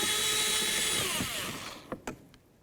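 A power driver with a 10 mm socket whirs loudly, spinning down as it backs out a window regulator mounting bolt on a Ford Edge, followed by a few sharp clicks.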